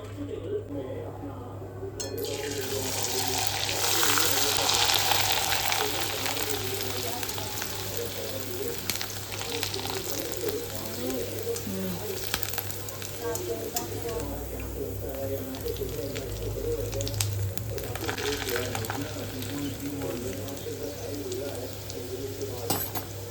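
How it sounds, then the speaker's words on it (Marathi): Kurdya crisps deep-frying in hot oil, a loud bubbling sizzle that swells in after a quiet start and stays dense to the end, with people talking over it. "आता मी घेते कुरड्या तळून."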